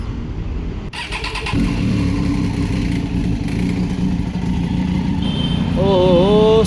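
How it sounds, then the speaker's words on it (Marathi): A motorcycle with a stock company exhaust cold-starts with a sharp crank, then settles into a loud, close, steady idle rumble, with a brief high squeal near the end. "चला करूया कोल्ड स्टार्ट."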